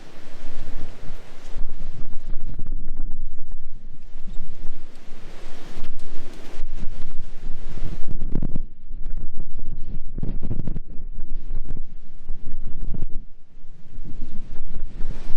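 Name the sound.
strong coastal wind blowing on the microphone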